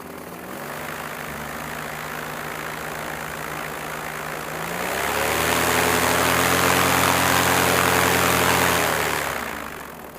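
A paramotor's propeller engine idles with a low drone, then throttles up into a louder, steady roar for several seconds before easing back down, heard outdoors at close range at sunrise before a foot launch.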